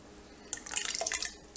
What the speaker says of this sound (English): I also have diced tomatoes here that I'm going to be pouring in